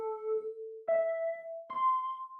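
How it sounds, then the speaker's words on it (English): An FM8 synth piano-like preset, heavily processed with EQ, plays three separate sustained notes stepping upward, each with a soft percussive attack, clear and alone. "there's a piano sounding thing that sounds very heavily affected"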